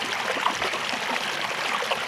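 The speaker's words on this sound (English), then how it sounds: "here we have our creek" Rain-swollen creek at the bottom of a valley on a wet morning, water rushing and gurgling in a steady, close, continuous wash with no voices.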